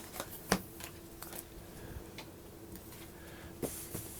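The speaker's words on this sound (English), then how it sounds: "We'll shuffle these up, and then we'll deal 7 to each other." A deck of Zombie Kittens game cards is shuffled by hand at a table for a two-player game, giving faint, soft riffling and tapping sounds with a couple of sharper card snaps, quiet and close.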